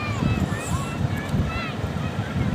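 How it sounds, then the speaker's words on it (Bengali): The large passenger launch Yad 1, running between Amtali and the Payra river, cruises along with a low engine and water rumble beneath wind buffeting the microphone, and faint voices in the background. "লঞ্চটি অনেক বড়, দেখুন অনেক সুন্দর চলতেছে"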